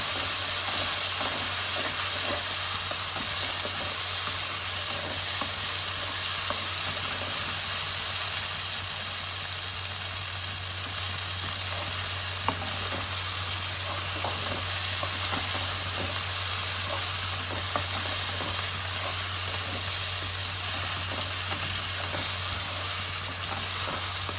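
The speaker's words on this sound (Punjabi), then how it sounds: "ਹੁਣ ਆਪਾਂ ਇਹਦੇ ਵਿੱਚ ਜਿਹੜੇ ਮਟਰ ਕੱਢੇ ਹੋਏ ਸੀ ਇਹ ਭੁੰਨ ਲੈਣੇ" Green peas roast in a pan for Punjabi matar paneer bhurji, giving a steady continuous sizzle and hiss with faint intermittent stirring scrapes, alone and unbroken throughout.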